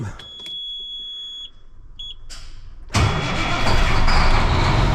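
A freshly rebuilt engine cranks over with a few brief bursts, then catches and roars into a steady, loud idle that fills the rest of the clip.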